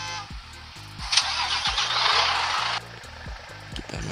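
Bus engine in Bus Simulator Indonesia, an SJM Trans coach: a steady low, close idle throbbing with regular pulses, overlaid midway by a loud hissing burst like air release or revving, with no talk.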